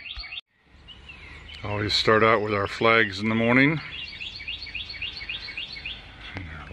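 Birds chirp and tweet repeatedly in a yard on a morning, steady calls at moderate distance running throughout while a person talks over them.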